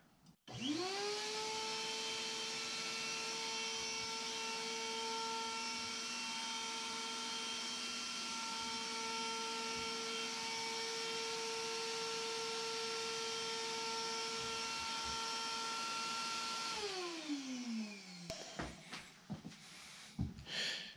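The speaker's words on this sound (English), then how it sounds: "when I flip the switch, it turns on the lights and kicks on the my air system" An air handling system in a fossil preparation lab spins up from a switch, whines steadily at a constant pitch for about fifteen seconds, then winds down with a falling tone, followed by a few faint knocks.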